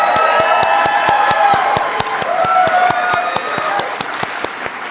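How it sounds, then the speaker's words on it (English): Large audience at the White House Tribal Nations Summit gives President Joe Biden a loud, sustained round of applause, with dense clapping and crowd cheering that tapers slightly toward the end. "let's please give one more round of applause for President Joe"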